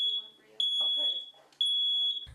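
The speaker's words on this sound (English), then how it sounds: "Smoke alarms save lives." Three sharp, high pitched smoke alarm chirps sound about a second apart in a home during a Red Cross smoke alarm installation, while people talk softly between the beeps.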